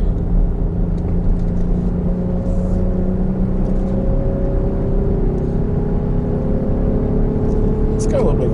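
A 2017 Dodge Durango Citadel SUV towing an ATV trailer through the Rockies, its engine and road noise a constant loud rumble with a faint tonal drone, heard from inside the cabin with a voice talking over it.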